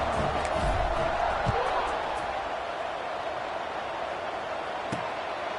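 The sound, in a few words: stadium crowd at football game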